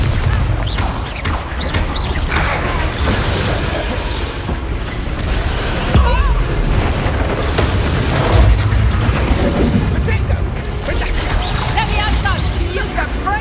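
Bombarda spell explosions in Hogwarts Legacy combat burst as heavy, booming blasts within a continuous roar of magical effects and crashing debris, with strong thumps recurring throughout and voices calling out between them.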